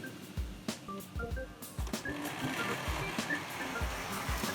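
A Tri-ang Brush Type 2 diesel-electric model locomotive runs around a layout pulling a rake of coaches, a small motor whirring under irregular clicks and rattles from wheels over track joints.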